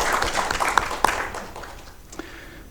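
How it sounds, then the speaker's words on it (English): Seminar audience applauding a speaker, a broad wash of clapping that swells for about a second and a half with a few sharp louder claps, then tails off into quieter room noise. "why don't we give a big applause to Ambassador Hong?"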